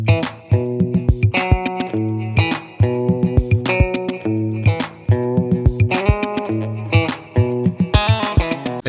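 Guitar parts layered over a sped-up drum loop sample, with a steady repeating beat and a low sustained bass note under bright picked guitar phrases, played loud throughout with no talking.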